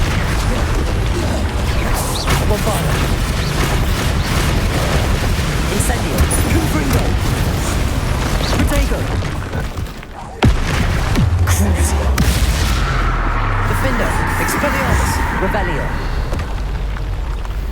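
Bombarda and Incendio spell blasts in Hogwarts Legacy: a steady, dense roar of fiery bursts and crackling, with one sudden louder boom partway through and a voice speaking over the noise.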